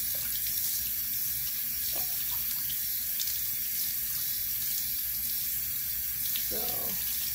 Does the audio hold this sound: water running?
yes